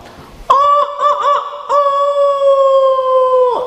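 A voice imitates a rooster crowing, loud and close: a strong tonal call with a wavering start, a brief break, then a long sustained cry that drops off at the end.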